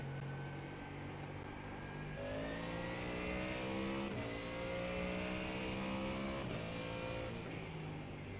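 A race car engine in a six-hour endurance race at Watkins Glen drones steadily, its pitch climbing and dropping through repeated gear shifts over several seconds, with no one talking.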